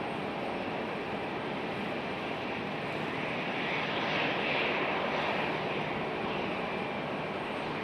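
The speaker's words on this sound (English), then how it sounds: "Air Canada's slowly making its way out to the end of the runway" An Air Canada airliner taxis slowly toward the runway end at Raleigh-Durham International Airport, its engines giving a steady, broad jet roar at a moderate distance that swells slightly midway and continues throughout.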